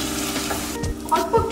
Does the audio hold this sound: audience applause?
no